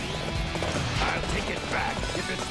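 A white horse galloping in the video game Dynasty Warriors 8, rapid hoof clatter mixed with busy battle sounds and game effects throughout, with no talk.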